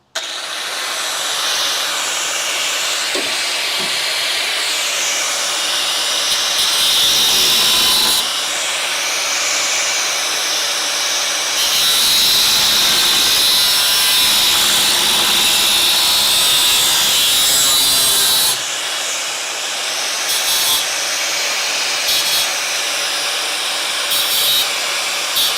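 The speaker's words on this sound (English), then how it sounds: "Cut that out, made it nice and flat with the grinder." An angle grinder cuts and flattens a steel frame rail tab for a Crew Cab Charger build, giving a steady, loud, high-pitched whine with shifting pitch and short breaks as the disc bites into the metal, with no voices.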